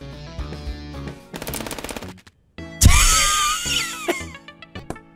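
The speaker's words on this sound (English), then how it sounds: "She's gonna have a minigun." Rapid automatic gunfire from a minigun in the video game FPS Chess, a loud sustained burst of fire near the middle, with shorter shots and game sounds before and after.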